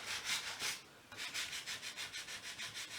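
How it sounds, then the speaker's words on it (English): Soft, rhythmic rubbing strokes of light hand sanding over a chalk-painted wooden piece, faint and close, with a short pause before a steady run of quicker back-and-forth passes. "I'm going to lightly just give the rest of the piece just a light sanding,"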